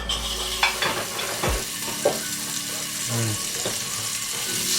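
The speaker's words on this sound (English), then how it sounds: "we're gonna put it in a pan, medium-high heat, score side down" Foie gras laid score side down in a hot pan over medium-high heat, a steady close sizzle and crackle with a few clatters and stirring knocks.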